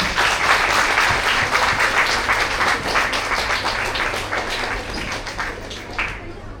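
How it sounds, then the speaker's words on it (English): An audience in a hall applauds professors as they take their seats on the dais at an introductory session, loud, dense clapping sustained throughout and easing slightly toward the end. "Please welcome them with a round of applause."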